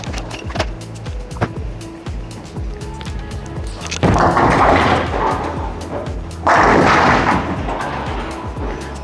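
Storm Night Road bowling ball rolling down a lane in a bowling alley, a rumbling roll followed by a loud crash as it strikes the pins, then a second crash of pins a little later.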